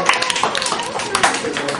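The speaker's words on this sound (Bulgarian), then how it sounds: "Пляскайте!" Children clapping at a Baba Marta martenitsa-making workshop, a quick scattered patter of small hands close by, mixed with voices talking over it.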